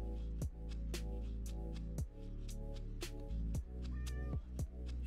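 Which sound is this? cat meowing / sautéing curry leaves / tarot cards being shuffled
cat meowing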